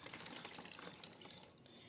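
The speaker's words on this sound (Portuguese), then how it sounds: "a água irá sair por causa da pressão do ar" Water gushes steadily out of an opened bottle, pushed by air pressure in a simple physics experiment. The splashing is continuous and fairly close, with no talk.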